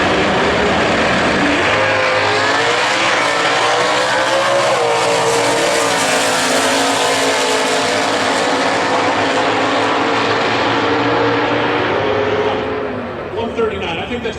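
Super Stock drag cars launch at a drag strip, among them a classic big-block Cobra Mustang with a 4-speed, giving a loud, sustained roar of engines revving and pulling away, with an announcer talking over it.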